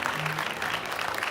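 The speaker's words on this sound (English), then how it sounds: "That does deserve a round of applause." Applause from a crowd, a steady wash of clapping that holds at an even level for about a second without letting up.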